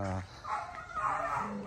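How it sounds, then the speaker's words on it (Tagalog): A dog at an abandoned jungle survival camp gives a short whine or yelp at the very start, then people talk over faint background sound. "Oh, may aso."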